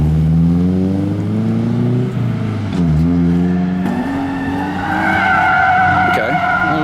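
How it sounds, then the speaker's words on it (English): A BMW E30 fitted with individual throttle bodies drifts on a racetrack sweeper, its engine revving loud and steady while the tires skid and squeal through the corner, with a brief dip in revs near the middle. "That was a drift."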